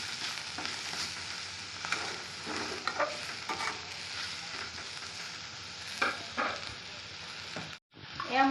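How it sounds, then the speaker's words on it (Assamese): Lemon rice with turmeric is stirred in a hot pan, giving a continuous close sizzle with scattered scraping strokes. A sudden break near the end is followed by a louder clatter. "হালধিখিনি দি দিছোঁ মই এনেদৰে অলপ লাৰি দিম"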